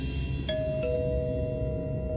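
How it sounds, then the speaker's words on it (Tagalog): A doorbell rings a two-note ding-dong, the second tone sounding just after the first and then ringing out clearly over a low background rumble. "may nag-doorbell."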